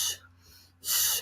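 A voice imitates normal lung breathing as heard through a stethoscope: a loud breathy airflow burst, a quieter gap, then a second long, loud breath.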